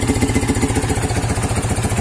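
A Yamaha New Vixion Lightning motorcycle engine runs at high RPM, a close, steady, rapidly pulsing buzz that stays even throughout.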